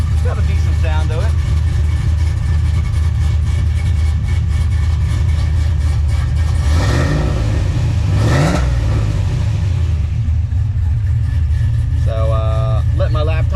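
A Ford OBS pickup truck's engine idles loud and close in neutral, then revs up twice in quick swells before dropping back to a rumbling idle, with a voice talking briefly over it.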